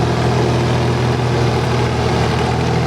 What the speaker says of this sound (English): 922A Caterpillar front end loader, 1961 model.